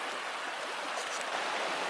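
Creek water flowing steadily in Soledad Canyon near an old mine, a continuous broadband rush with no breaks, close and moderately loud, with no voices.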